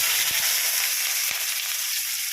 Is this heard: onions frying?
yes